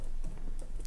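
Quick keyboard typing for less than a second while a web-development lesson entry is filled in: a few close, light key clicks in a short burst with no voices.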